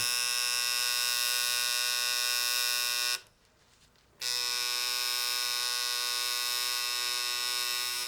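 A tattoo machine shading ink into skin, giving a steady, close, high-pitched electric buzz that stops for about a second and then starts again at the same pitch.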